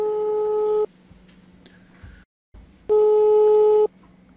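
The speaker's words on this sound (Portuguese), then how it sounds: "Tá chamando." Ringback tone on a mobile phone call: two long, loud steady tone bursts separated by a quiet pause, with faint room noise in between.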